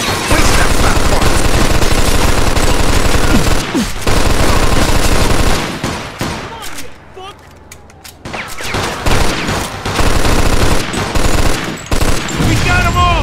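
Sustained gunfire in a Mafia 2 shootout, with dense rapid bursts of automatic fire, a brief lull in the middle, then heavy shooting resuming, mixed with shouting voices.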